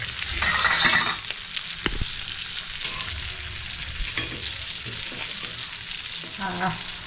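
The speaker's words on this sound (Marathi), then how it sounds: "दुसरी बाजू एकदा चांगली फ्राय करून घेतली की ढोमा मच्छी फ्राय आपल्याला खायला रेडी" Dhoma croaker fish frying in a pan, a steady loud sizzle and crackle throughout, with occasional spatters and the soft scrape of stirring or turning.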